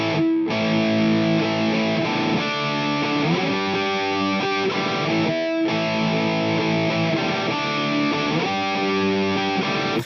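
Heavy distorted electric guitar plays two measures of a song's riff, loud and driving, mixing palm-muted chugs with ringing open strings and a brief break midway, with no talking.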